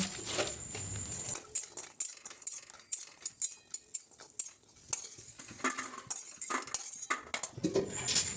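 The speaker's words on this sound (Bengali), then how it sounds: "এরপর কড়াইয়ে সর্ষের তেল গরম করে কলাই বড়িগুলোকে ভেজে নেব।" Kalai bori frying in hot mustard oil in a wok, with a steady soft sizzle under frequent close clinks and scrapes of a metal spatula stirring against the pan.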